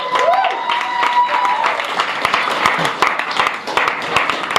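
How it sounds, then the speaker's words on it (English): A stand-up comedy crowd breaks into applause with cheering, a dense wash of clapping from the audience mixed with shouts and a brief voice. "Round of applause for Lucy"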